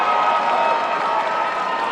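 Crowd of police supporters applauding a police boxer after a third-round TKO at a charity boxing match between police and fire departments, steady loud clapping and cheering filling the hall.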